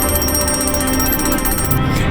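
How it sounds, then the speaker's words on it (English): A phone alarm rings during an awards gala, a loud steady electronic tone pattern that continues without a break, with no talk over it. "Hey, Connor, your alarm's going off."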